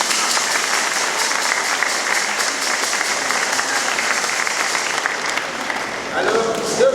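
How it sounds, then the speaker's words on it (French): A church congregation at a first communion service gives sustained, dense applause for young girls. The clapping stays steady for several seconds and a few voices come through faintly near the end. "jeunes filles là, vous pouvez les applaudir."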